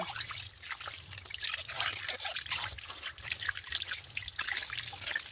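Arrowroot is washed in water, with continuous trickling, dripping and splashing close by and fairly quiet, and no talking.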